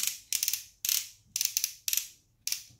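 Plastic knee joint of an Optimus Prime LT02 toy figure ratcheting into place, six crisp close clicking bursts, each a quick run of sharp clacks, evenly spaced with short pauses and no talk.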